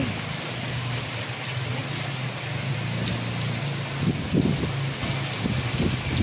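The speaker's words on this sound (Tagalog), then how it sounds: "lakas ng ulan. Ay, hangin." Typhoon Ulysses wind and heavy rain roar steadily as a dense, continuous wash of noise, with a low engine-like hum underneath and a few louder gusts near the end.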